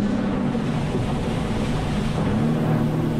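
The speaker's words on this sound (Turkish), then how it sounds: "Jet ski ile turladım. Spor moduna aldım." A jet ski races fast in sport mode across a lake, heard as a loud steady engine drone mixed with rushing water spray and strong wind buffeting close to the microphone.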